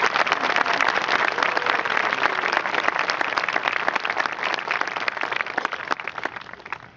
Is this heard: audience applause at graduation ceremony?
yes